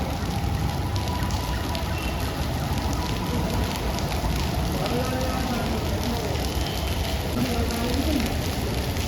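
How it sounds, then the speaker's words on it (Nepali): Heavy rain pours down at Gongabu bus park in Kathmandu, a dense, unbroken roaring hiss with a voice faintly heard beneath the downpour. "पानी चाहिँ अहिले खतरै परिरहेछ काठमाडौँमा।"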